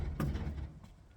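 An old car door creaks and thunks open for the first time in years during a teardown of a worn-out vehicle, a single close, fairly loud opening followed by quieter rattles.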